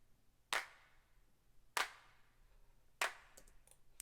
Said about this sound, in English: These claps I recorded in my bedroom.